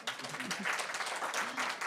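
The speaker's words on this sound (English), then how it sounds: "I'd like you all to please clap once more for our guest" Listeners clap for a guest speaker at a Seton Hall Institute for Communication and Religion event, producing a steady, moderately loud patter of hands with a voice audible underneath.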